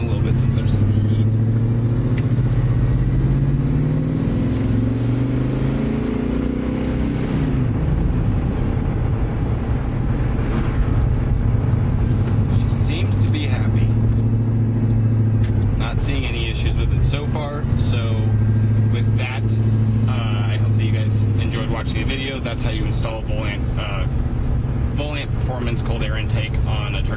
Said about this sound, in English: But it definitely has a better engine sound to it.